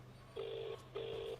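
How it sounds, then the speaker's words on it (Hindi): Two quiet electronic keypad beeps from a telephone as a number is dialed, each a steady tone lasting under half a second, separated by a brief pause over a faint low hum. "एक मिनट, मैं एक फोन कर लेता हूँ।"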